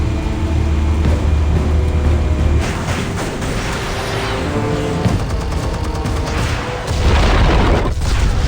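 Heavy explosions and rumbling blasts boom through a scene in Batman The Telltale Series, loud and continuous with layered crashes and a renewed surge near the end.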